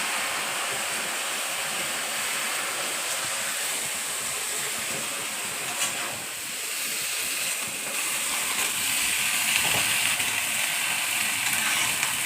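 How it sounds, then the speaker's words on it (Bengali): Tap water pours steadily into a bucket, a continuous loud rushing hiss for the whole stretch with no talk. "বালতিতে জল ভরছে।"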